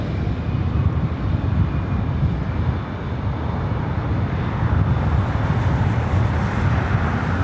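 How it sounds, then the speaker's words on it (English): A Delta Boeing 767 airliner roars at LAX airport, a dense, loud, steady broadband jet rumble with heavy low-end and a windy hiss, sustained without pause and sounding fairly close. "I believe that 767 possibly heading to the south side with Delta"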